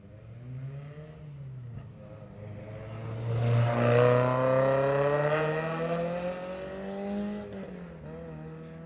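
Miata race cars at speed on the Lime Rock Park circuit, engines rising in pitch as they accelerate, peaking loudly close by, then shifting and fading, with faint commentary beneath.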